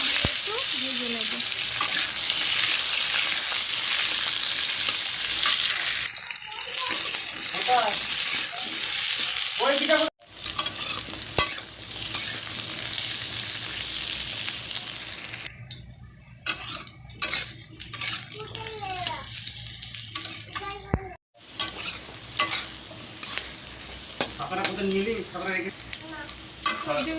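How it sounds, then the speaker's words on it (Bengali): Potato and papaya chunks sizzle steadily in hot oil while a spatula stirs and scrapes the pan, loud and close for most of the stretch, broken by a few brief pauses and light metal clinks. "এবার আলু আর পেঁপেটা একটু ভেজে নেব।"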